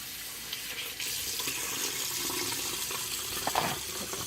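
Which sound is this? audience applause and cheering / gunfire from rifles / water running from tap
water running from tap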